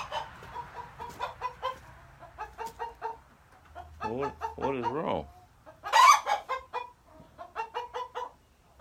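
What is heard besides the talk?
broody brown hen clucking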